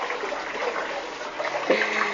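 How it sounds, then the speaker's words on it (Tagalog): Water runs steadily from a kitchen tap into a basin in a continuous close splashing rush, with a brief gurgle near the end. "Binuksan na ulit yung tubig."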